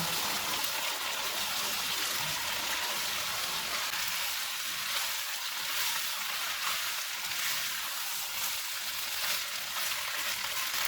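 Beef pasta simmers in a pan with olive oil, soy sauce and half a cup of pasta water, giving a steady, soft sizzling and bubbling hiss that continues evenly throughout without any voices.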